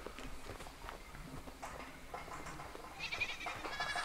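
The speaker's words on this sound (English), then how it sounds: "Okay, so all the sheep are over here." Sheep bleat in the video game SuperBrothers, a few short nasal calls rising over a steady field of busy game sounds and light footstep-like taps, growing denser and brighter toward the end.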